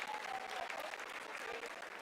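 Applause fills ISRO mission control during the lunar landing descent, a dense, steady wash of many hands clapping at a fairly faint level for the whole stretch.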